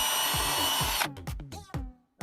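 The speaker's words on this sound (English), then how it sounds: "we're gonna drill some pilot holes." A power drill bores pilot holes in wood for a barnyard chicken feeder, a loud grinding whir that stops abruptly, followed by a few short bursts of the motor.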